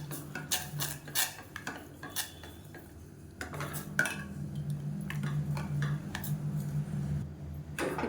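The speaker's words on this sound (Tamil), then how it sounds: "கேஸ் ஆன் பண்ணிவிட்டு கைவிடாமல் கிளறிட்டே இருக்கணும்." Metal utensil stirring a thickening mixture in a pan over a gas stove, with repeated scraping clatters and light clinks of cookware, close and steady over a low burner hum.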